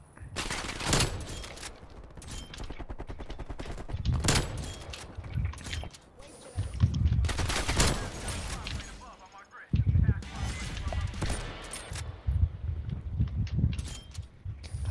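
Rapid bursts of automatic gunfire and single shots from a team deathmatch in Call of Duty Black Ops Cold War on the Satellite map, loud and repeated throughout, with a player talking over the shooting.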